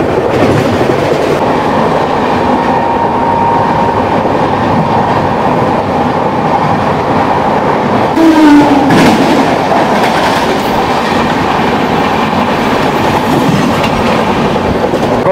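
Shalimar Puri Dhauli Express (12821) running at about 110 km/h on a high-speed track after leaving Santragachi, with a steady loud rumble and rhythmic clickety-clack of wheels on rails, plus a brief squeal midway.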